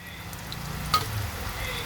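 Cumin and mustard seeds frying in oil with garlic for palak bhaji, a steady soft sizzle with a brief sharper crackle midway.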